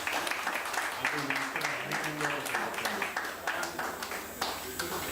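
An audience applauds after a jazz performance at a CD presentation, a lively burst of clapping with some voices mixed in, held steady for about five seconds.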